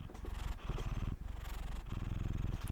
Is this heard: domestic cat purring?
yes